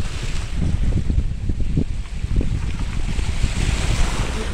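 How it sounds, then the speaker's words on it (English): Ocean waves wash onto a beach as a loud, constant roar of surf, with heavy wind buffeting the microphone throughout and no voices. "There's a sea, the ocean,"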